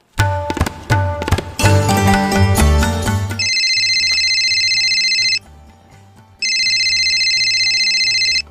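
A phone rings in two long electronic bursts separated by a short pause, clear and close, following a few seconds of music.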